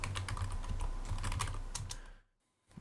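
Rapid typing on a Commodore 64 keyboard, a steady run of close, clattering keystrokes that stops abruptly near the end before a few more taps resume.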